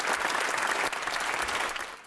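Sustained applause fills the House of Lords chamber as members rise in a standing ovation after a debate on living with cancer, a dense even wash of clapping throughout.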